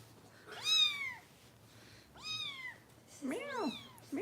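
A kitten gives three high, clear meows spaced a second or so apart, close and fairly quiet, with faint background hum.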